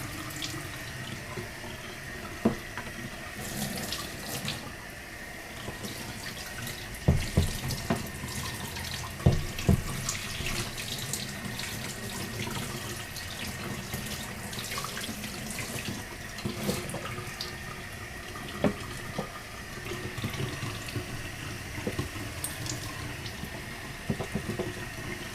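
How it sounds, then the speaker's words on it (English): Water drains steadily from a Porsche 944 being LS swapped, slowed by a baffle system, a continuous trickling rush with scattered splashes and drips, close and unbroken for the whole stretch. "It's got some kind of baffle system. It's not letting me drain all the water at one time."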